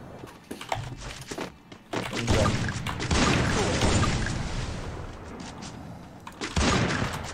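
12-gauge shotgun blasts in a first-person shooter game land as several heavy, booming thumps, separated by short gaps, amid continuous loud in-game noise and rumble.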